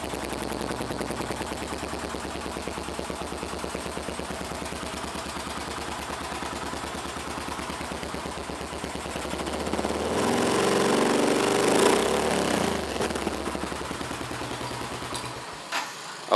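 A modified Yamaha Byson motorcycle idles while stationary, its aftermarket exhaust giving a loud, rapid, steady popping putter up close. Revs rise briefly about two-thirds through, then settle back to idle.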